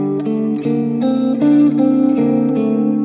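Fingerpicked guitar plays a short major-scale melody of plucked notes starting on D over a sustained low bass note, clean and close, with no talking.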